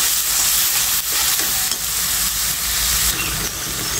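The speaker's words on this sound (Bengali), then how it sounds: "টক দইটা দিয়ে দিয়েছি, আমি আরেকটু নেড়ে ছেড়ে সুন্দর করে কষিয়ে নেব।" Spice paste fried with beaten sour yogurt for a jackfruit kofta curry sizzles loudly and continuously in a pan, with stirring scrapes and a few sharper pops throughout.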